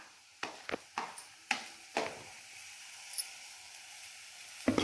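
Chopped ginger, garlic and green chillies drop into hot oil in a frying pan, giving a few quiet separate sizzles and stirring clatters over a faint steady hiss, with no talk.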